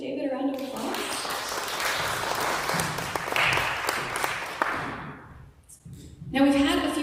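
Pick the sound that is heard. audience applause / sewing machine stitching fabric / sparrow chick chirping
audience applause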